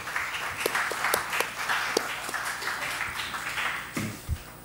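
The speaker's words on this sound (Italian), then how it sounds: "io lo saluterei con un applauso ringraziandolo per essere a Foligno" An audience in a conference hall in Foligno applauds to welcome a guest speaker, a steady patter of clapping that holds throughout, with a few sharper claps standing out and a brief murmur near the end.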